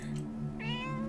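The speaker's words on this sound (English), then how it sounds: "There's a kitty!" A cat gives a single clear, rising meow close by against a low steady hum.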